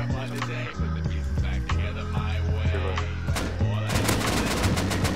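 Gunfire in the survival game Rust, including an AK rifle, with rapid bursts and repeated shots, loud and close, growing denser toward the end over a steady low game hum.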